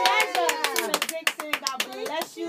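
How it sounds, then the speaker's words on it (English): Hand clapping at a live radio birthday celebration comes as a quick run of claps mixed with talking and cheering voices. "I wasn't supposed to clap to that."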